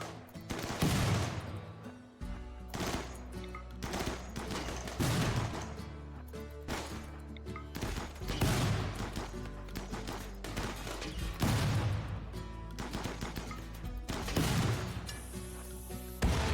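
Repeated bursts of loud gunfire in a zombie video game, volleys of rapid shots with short gaps between them and no talking.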